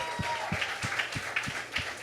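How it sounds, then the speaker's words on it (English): Applause from a comedy show audience, a steady wash of clapping with rhythmic thumps running through it, moderately loud and continuous throughout. "Give him a big round of applause."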